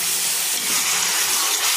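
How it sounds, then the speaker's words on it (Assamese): Water poured into a pan of frying taro gives a loud, steady steam hiss with a wet, broadband rush that holds evenly for nearly two seconds, close up and with no voices. "এয়া এনেকৈ ভাজি হৈ গ'ল এয়া অকণমান মই পানী দি দিলোঁ"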